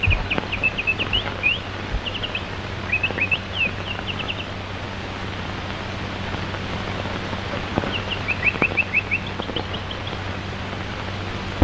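Birds chirp in short clusters of thin, high tweets, returning a few times over a steady background hiss, with quieter stretches in between and no voices.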